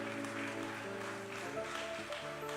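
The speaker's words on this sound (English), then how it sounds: "Please, big round of applause for Amu Nandi." An audience at a literary book party claps for an author, a steady wash of applause at moderate volume mixed with sustained background music tones.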